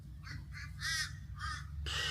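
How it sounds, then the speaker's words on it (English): Several crows caw in a loose series of harsh, repeated calls, fairly close, over a low steady background hum, at Lake Elphinstone, Queensland. "There's a whole bunch of crows there just"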